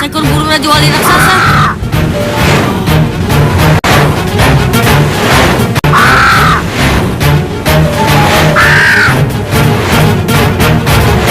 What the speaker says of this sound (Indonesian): seekor burung rajawali raksasa